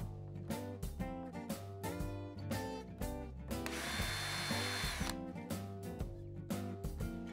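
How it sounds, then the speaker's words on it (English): A power drill runs in short repeated bursts with ratcheting clicks between them, driving small pan head screws one after another up close. "then install small pan head screws"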